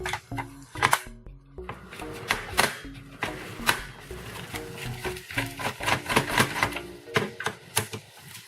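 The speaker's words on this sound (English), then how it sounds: "so now to get the board out, we need to remove those 2 screws" Two screws are backed out of a Sega Genesis Model II circuit board with a screwdriver, giving close, quiet, irregular clicks and small plastic and metal taps and rattles over about eight seconds, with no talking.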